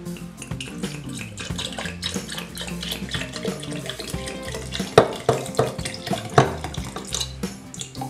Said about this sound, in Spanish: vamos a echarle agua para disolver la tinta